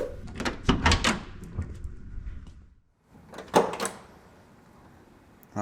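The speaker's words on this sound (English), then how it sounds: "Doors open up awesome" A few sharp clunks and rattles of a 1970 Chevy Chevelle SS LS5's car door opening, followed after a brief pause by another solid latch click and thump, close by.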